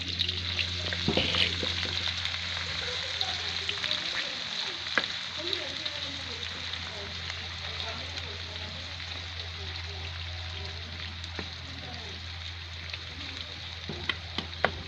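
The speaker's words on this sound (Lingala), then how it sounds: "Sauce na nga awa naosala na mafuta na nga oyo natiaki na moto." Onions and peppers frying in oil for a sauce, a steady close sizzle with scattered crackles and pops running throughout, while a low hum and faint talk sit underneath.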